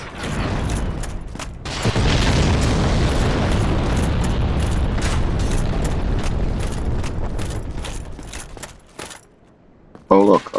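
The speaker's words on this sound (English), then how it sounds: "Shooting fire bombs at me." Fire bombs burst in a sustained, loud roaring blast inside a stone fortress in Dark Souls Remastered, a dense rumble lasting several seconds before cutting off, followed by a brief sharp clatter.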